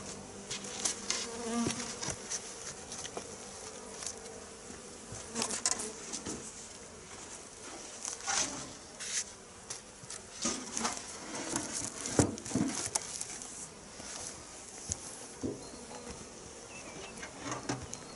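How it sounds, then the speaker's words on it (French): Honey bees buzz densely at an opened beehive in winter, a steady close swarm drone with scattered louder passes of single bees near the hive throughout, and no talking. "Je referme tout de suite la ruche."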